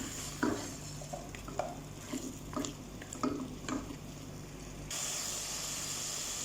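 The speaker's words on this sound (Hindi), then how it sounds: "पहले इन सबको भून ले फिर हम पालक डालेंगे" Vegetables stir-fried with spices in a pan for masala khichdi, before spinach goes in: quiet sizzling with scattered scraping stirs and clinks, ending in a louder steady hiss.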